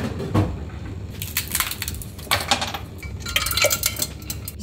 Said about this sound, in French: J'ai reçu ma vaisselle.